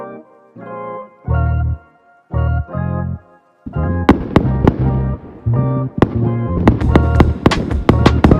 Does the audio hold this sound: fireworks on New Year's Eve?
yes